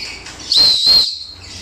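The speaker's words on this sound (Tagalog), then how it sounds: "Yung pito." A whistle is blown for pigeon recall training: one loud, sustained shrill blast of about half a second, close and clear, with a short quieter toot just before it.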